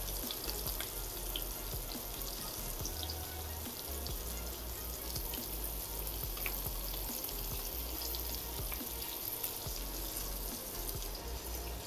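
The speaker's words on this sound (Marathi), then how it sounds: "मस्त फ्राय व्हायला लागलेला आहे" Paneer pieces frying in hot oil in a pan, a constant close hiss and crackle of sizzling that runs unbroken throughout without any voices.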